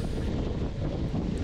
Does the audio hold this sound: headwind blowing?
yes